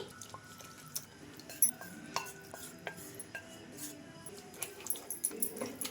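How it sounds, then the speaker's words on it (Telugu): Spinach gets stirred into a pan of onion masala, with soft scraping and irregular clinks of a spoon against the pan, plus faint wet sounds, close and fairly quiet. "పాలకూర వేనాక బాగా కలిపేసుకోవాలి"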